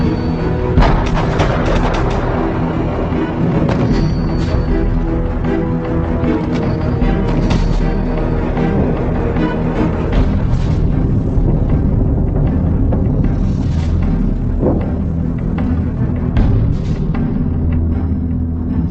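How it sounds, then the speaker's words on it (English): Artillery bombardment from the Falklands War, a dense, continuous barrage of deep booms and thuds, loud and sustained throughout with repeated sharper blasts rising out of the rumble. "They hammered the remaining enemy positions in a final all-out bombardment."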